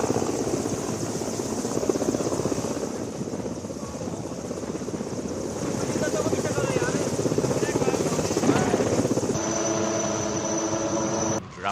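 Military helicopter at an air show, a Chinook or Apache, with a steady loud rotor and engine drone throughout and a whining tonal shift near the end.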